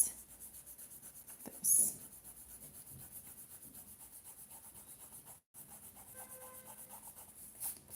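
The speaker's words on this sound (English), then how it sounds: "you can very lightly go over with an eraser to erase" An eraser is rubbed lightly over a bullet journal page, soft repeated rubbing strokes close by, with a brief louder scuff and a word spoken quietly.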